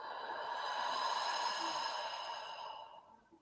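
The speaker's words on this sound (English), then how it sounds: "take 3 deep inhales in and out, as deep as you can" One deep exhale during a meditation breathing exercise, a long breathy sigh heard close, steady and then fading over a few seconds with no talk.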